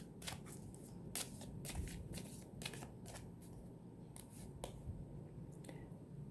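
Playing cards shuffled for a tarot-style reading, a run of crisp riffling flutters and sharp snaps repeating in quick bursts, close and fairly quiet, with no talking.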